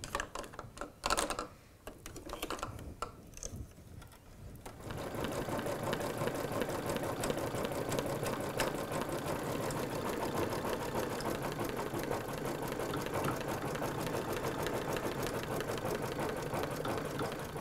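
An embroidery sewing machine stitches outline stitches over appliqué on a dangler design, running as a steady, loud, continuous rapid needle chatter after a few seconds of irregular handling noise at the start.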